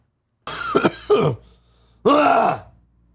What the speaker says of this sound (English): I hope I remember to edit out all of my fucking coughing fits